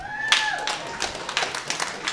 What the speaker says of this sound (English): You got all the single people clap your hands.